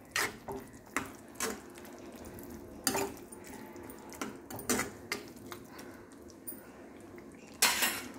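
A spoon scraping and knocking against a pan while stirring curry, sharp irregular metallic clinks and taps at close range over a faint steady background hum.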